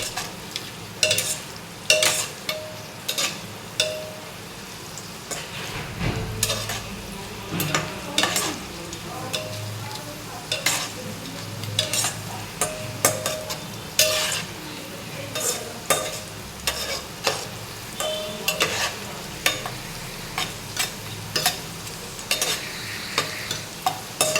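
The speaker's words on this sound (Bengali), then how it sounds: "এগুলোকেও আমি ভাজা ভাজা করে নেবো" Cashews and carrots sizzle and crackle in a hot pan while a spoon repeatedly scrapes and stirs, producing regular clattering strokes over a steady frying hiss.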